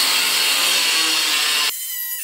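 Power tool cutting a section off a steel WeldTables.com Certiflat 3'x4' Pro welding table, a loud, continuous harsh cutting roar heard up close that shifts to a thinner, lighter tone near the end.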